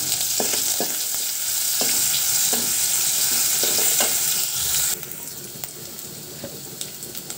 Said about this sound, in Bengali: তো আজকে তেলের মাঝে হইল গিয়া দিমু পেঁয়াজ, খালি পেঁয়াজ দিমু